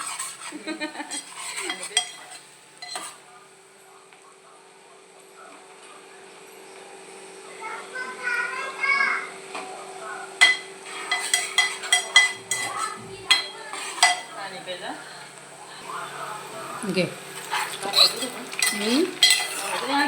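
Pots and dishes clatter and clink at a sink while being scrubbed, growing busier and louder in the second half, with intermittent talk heard over the washing.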